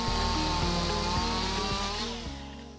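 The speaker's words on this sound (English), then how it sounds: "I'm using the best saw on the construction site, a chainsaw," A chainsaw trims wooden knee braces to length on a pole barn construction site, its engine revving loud and close with a strong, steady drone and a few brief dips in pitch as the chain bites into the boards.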